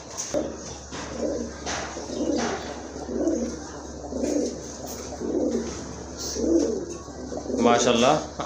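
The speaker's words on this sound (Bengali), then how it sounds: "আর নটটা তো দেখতে পাচ্ছেন কেমন ডাকে" A male pigeon coos repeatedly at close range, a steady series of six or seven soft, rolling low calls roughly one per second, with a voice speaking over them.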